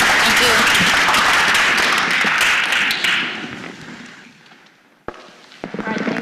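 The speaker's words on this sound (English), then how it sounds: "I'd first like to just give some applause for" An audience at the launch event of a science of learning in education centre applauds its speakers with loud, dense clapping that fades away after about three seconds into near quiet with a few scattered sounds.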